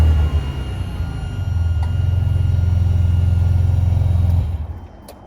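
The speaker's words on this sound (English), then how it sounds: "And then the car starts." A 2005 Ferrari Superamerica cranks and fires up, its engine catching after a brief starter whir and settling into a strong, steady idle before the sound trails off near the end.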